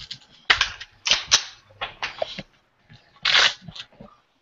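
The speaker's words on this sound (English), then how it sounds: "See if I can easily draw these mags out of the" Magazines pulled one after another from a pouch, giving a series of sharp close scrapes and snaps in irregular bursts, with pauses between draws.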